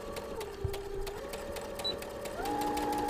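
A sewing machine back-stitches double piping with a piping foot, giving a quiet, steady mechanical whir with rapid needle ticks. The motor pitch drops briefly, then rises near the end as the stitch reverses.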